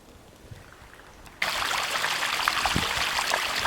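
Water from a basement pump suddenly gushes out by the fence outdoors, a loud steady splashing rush that starts after a quiet stretch and continues without a break.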